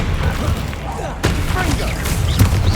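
Spell blasts from Bombarda and Confringo in Hogwarts Legacy, a couple of sharp booming bursts over a dense wash of game noise and faint voices.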